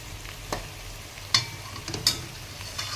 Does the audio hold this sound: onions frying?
yes